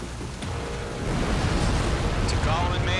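Rumbling explosions in the Ace Combat 7 jet combat video game, a loud, dense, continuous roar that swells after the first second.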